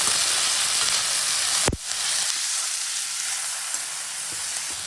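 Onions sizzle in a hot pan with a steady frying hiss, broken by a brief clatter partway through, then frying continues more softly.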